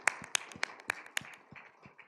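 A church audience claps in short uneven bursts for the pastor's children, a few sharp hand claps and taps spread over two seconds, fairly faint and with no talk.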